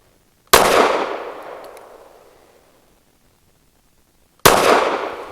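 Two sharp pistol shots from a Kel-Tec P15 firing Circle 9 ammunition at an outdoor range, about four seconds apart, each loud and close with a long echoing tail that fades before the second report.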